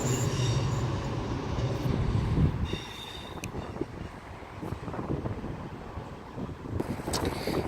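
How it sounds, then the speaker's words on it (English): Great Western Railway class 158 diesel unit 158951, bound for Cardiff Central, passing through St Denys station: a steady loud rumble of wheels and engine with wind buffeting the microphone, fading slightly midway before swelling again. "158951 Great Western Railway to Cardiff Central."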